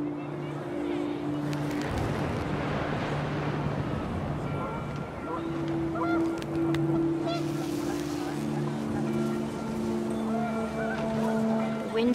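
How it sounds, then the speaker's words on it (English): Panicked geese honk in the video game What Remains of Edith Finch, with repeated honks rising over a steady windy background across several seconds. "The wind picked up, and panicked geese appeared and quickly went."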